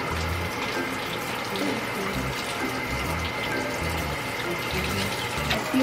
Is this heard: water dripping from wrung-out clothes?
yes